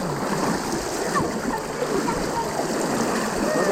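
Fast-flowing Ajqua River in Papua, a dense, steady rushing roar of water that stays loud and close throughout.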